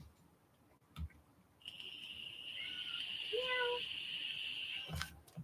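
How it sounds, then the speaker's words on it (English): A pet cat meows at night in a long, drawn-out call that rises and wavers, standing clearly above quiet room background with a couple of soft knocks before and after. "She's doing her nightly call to him. Boy, your cat wants you."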